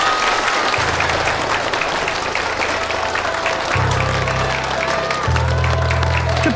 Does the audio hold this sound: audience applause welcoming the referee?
yes